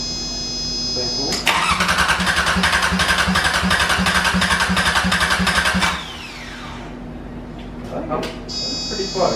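A 34-year-old Sabb marine diesel engine on a sailboat cranks on its starter for about four and a half seconds in a loud, fast rhythmic chug without catching, then winds down, followed by voices talking nearby.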